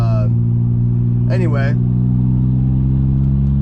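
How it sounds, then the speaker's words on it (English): A BMW E36 328is engine idles with a steady, loud, low drone throughout, briefly overlaid by a single spoken word. "So the car still sounds like crap."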